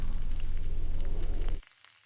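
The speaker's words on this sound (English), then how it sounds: "Now I'm going to fry up about 6 small to medium potatoes, and I've cut them into wedges." Small to medium potato wedges seasoned with salt and pepper fry in a pan, giving a loud, close, dense sizzle that stops abruptly near the end.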